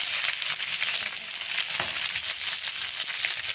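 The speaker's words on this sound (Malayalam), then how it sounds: "നല്ലപോലെ പൊരിഞ്ഞ് കൽമാസ് സൂപ്പറായിട്ടുണ്ട്" Kalmas, a snack of jaggery, coconut and cumin, fries in hot oil with a steady, close, dense sizzle that holds evenly throughout, no talk.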